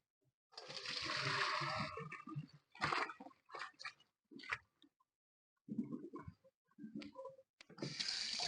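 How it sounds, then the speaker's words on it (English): Cooked lasagna pasta sheets are rinsed under a running tap in a colander: a close burst of rushing, splashing water, then short intermittent splashes and clatters, with quiet gaps between. "let's go ahead and get our pasta sheets off the stove and run them through the colander"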